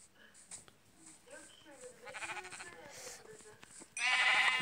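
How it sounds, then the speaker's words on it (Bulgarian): A sheep in a video game bleats several times in short wavering calls under people talking, with a louder, harsher burst near the end. "Тук имаше овца."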